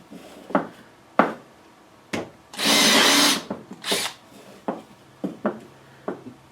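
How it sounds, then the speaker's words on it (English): A Festool drill fitted with a Centrotec depth-set chuck, running at speed 2, whirs in a string of short bursts and one longer sustained run, close and loud, with handling clicks between. "I can put it in speed 2 for drilling"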